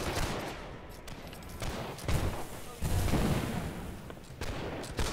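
Musket volleys ring out in a Holdfast: Nations At War battle, with repeated sharp gunshot bursts and heavier booms rolling over a busy, noisy battlefield backdrop.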